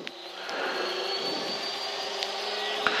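A Blue Angels jet engine spools up after ignition, holding a steady, close roar with a high, sustained turbine whine and a low tonal hum throughout.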